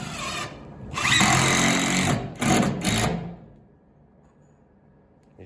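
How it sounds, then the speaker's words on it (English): A power drill drives 3-inch screws with a T25 Torx bit through a wall plate into a floor joist while an interior wall is fastened, with two close, loud motor whines of about a second each, then two quick short bursts before quiet. "He's putting 2 screws in each location. He's using 3-inch screws with a T25 Torx bit on it."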